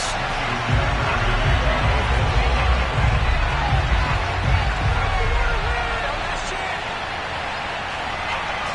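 Stadium crowd in a Madden NFL game before a Ravens versus Browns game in Baltimore, a dense, loud, steady roar of cheering and babble that fills the whole scene.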